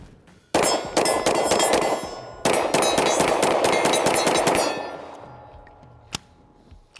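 Two long bursts of rapid fire from an MR920P rifle, each shot ringing off steel targets with bright metallic clangs, followed by a few isolated pings as the echoes die away.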